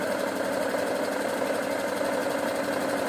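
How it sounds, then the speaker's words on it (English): Sewing machine running steadily while stitching a ruffle dress, a continuous close mechanical whir with an even buzzing texture and no pauses or talk. "Give it a reverse stitch."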